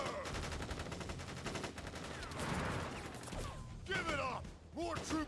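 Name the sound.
soldiers firing guns in video game Crisis Core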